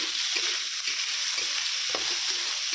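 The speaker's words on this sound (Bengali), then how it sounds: "এটা ভাজা ভাজা হয়ে যাবে" A steady, bright frying sizzle fills the pan while food is stirred, with soft scrapes and taps under the constant hiss and no one speaking.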